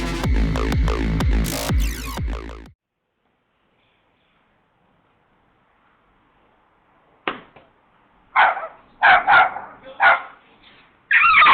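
A dog, a movie-star type able to face down a gang of villains on its own, sets off a loud burst of barking at the start, then after a long silence gives several shorter barks and yips that come close together.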